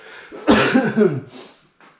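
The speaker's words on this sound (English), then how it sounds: "My cough's finally nearly gone. It's still there." A single harsh cough from a person with a lingering cough, close and loud, followed by a short breathy exhale and a faint trailing sound.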